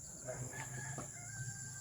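A chicken clucks and crows faintly in the distance over a quiet, steady background hum.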